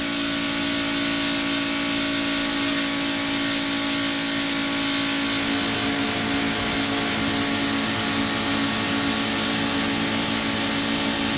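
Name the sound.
NASCAR race car engine revving at Daytona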